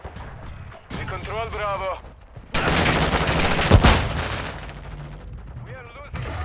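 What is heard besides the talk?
gunfire in a video game battle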